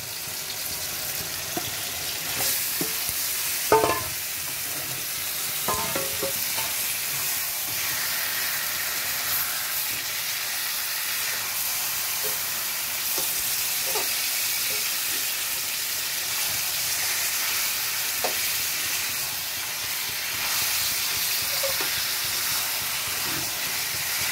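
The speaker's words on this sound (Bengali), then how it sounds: "এবার আমি মাংসটা দিয়ে দেবো।" Meat goes into a pan of frying tomatoes and sets off a loud, steady sizzling hiss that runs without a break, with a few utensil knocks near the start.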